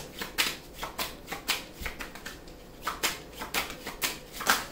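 Tarot cards shuffled by hand in a steady rhythm, repeated crisp riffles and slaps at roughly half-second intervals, fairly quiet and close, with no talking.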